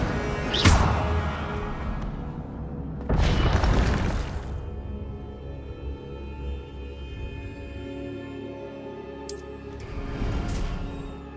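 Fire spell bursts from Incendio being cast in Hogwarts Legacy, three loud whooshing blasts near the start, middle and end, over a steady game background hum.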